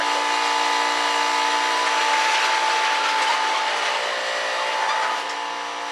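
An air compressor runs in a garage, a loud, continuous mechanical drone with a steady whine and rattling texture that fills the whole stretch without pause.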